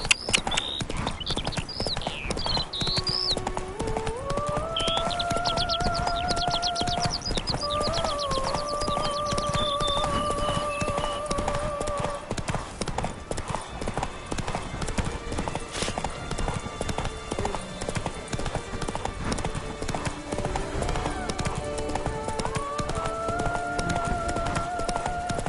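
Roach, the horse in The Witcher 3: Wild Hunt on PS5, galloping with rhythmic clip-clop hoofbeats throughout, joined by a few whinnies and game music tones, no voices over it.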